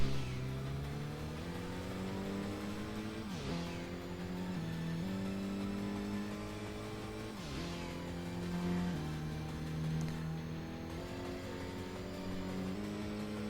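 A sports car's exhaust note in the Tokyo Xtreme Racer driving game, a steady loud drone rising and falling through gear changes, with sharp pitch dips and climbs around shifts, continuous with no talking.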